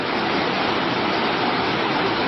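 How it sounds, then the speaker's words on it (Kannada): A waterfall roars with a loud, steady rush of water, constant and unbroken throughout with no voices. "essa queda d'água."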